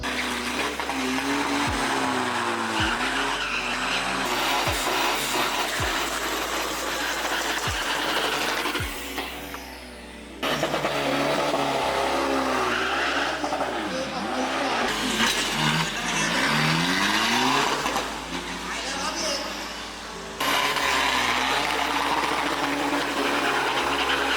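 A Toyota Hilux Revo pickup roars through a drag racing run, the loud engine revving hard and climbing through repeated gear changes, with brief drops between pulls and a steady close, continuous mechanical drone.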